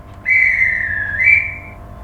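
An Accurascale Class 92 model locomotive in Caledonian Sleeper livery plays its dispatch whistle effect, a single sustained shrill blast lasting about a second and a half with a slight rise near its end, clear and close.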